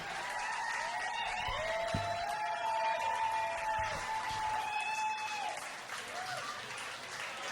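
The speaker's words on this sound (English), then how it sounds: "Round of applause." Wedding guests applaud after an announcement of the groom and his mother, a steady sustained clapping from a crowd that carries on for several seconds before thinning out near the end.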